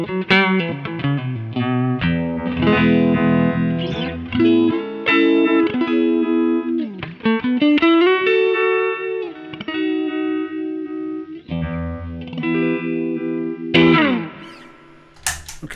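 Electric guitar through an MP Custom FX Voodoo Vibe pedal on its vibe setting, sliding bends and sustained notes swirling with a wobbling, phase-like modulation plus fuzz grit and reverb tail, loud and continuous without any talking.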